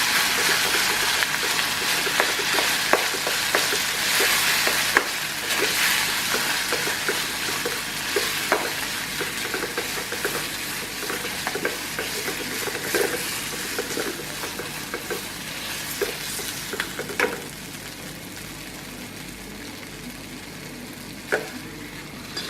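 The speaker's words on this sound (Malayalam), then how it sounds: "നെയ്യായിട്ട് നന്നായി ഒന്ന് യോജിപ്പിച്ചെടുക്കുക." Rice payasam cooked in coconut milk being stirred with ghee in a pan, a continuous bubbling simmer with repeated spoon scrapes and taps against the vessel, close and moderately loud, no talking.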